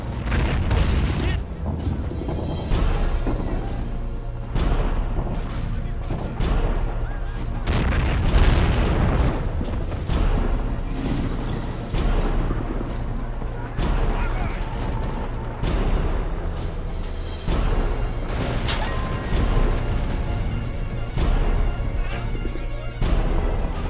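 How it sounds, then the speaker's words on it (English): Heavy German artillery shelling Soviet positions in the World War II strategy game Men of War, with repeated booming explosions and crashes rolling continuously over a dense rumbling battlefield, loud and sustained throughout. "The Germans have brought heavy artillery and are shelling our positions."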